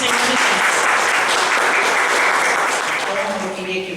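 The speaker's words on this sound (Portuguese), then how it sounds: "Uma forte salva de palmas para o Senhor Jesus." A church congregation applauds, a dense wash of many hands clapping close and loud for several seconds before thinning slightly, with a voice faintly audible underneath.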